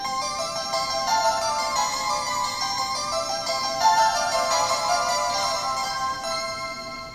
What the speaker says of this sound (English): One item that's really cool that we found on our last trip to Japan is this sound keychain